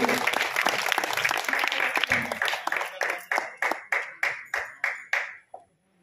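An audience at a Kosli poetry gathering claps together, first in a thick burst of applause, then in about nine slow, evenly spaced loud claps in unison before it stops.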